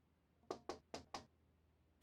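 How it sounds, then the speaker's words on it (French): Four sharp knocks rap in quick succession on a phone booth door in the video game Syberia, close and crisp against a quiet background, followed by one more knock at the end. "Cela ne rime à rien de tambouriner sur cette fichue porte."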